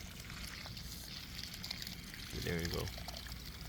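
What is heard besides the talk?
water poured onto a potted tomato plant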